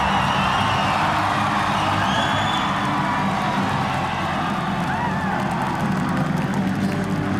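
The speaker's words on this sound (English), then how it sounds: "A sellout crowd here in Macau, China, going absolutely off their rockers for GeJe EUSTAQUIO" A sellout crowd in Macau, China cheers wildly at a mixed martial arts event, a loud, sustained roar with whoops and shouts rising above it, continuous from start to finish.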